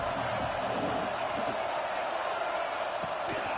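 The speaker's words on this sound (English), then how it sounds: "This crowd ready to make its presence known." Stadium crowd noise at a Florida State at Clemson college football game, a steady loud roar of many voices filling the whole clip with no break.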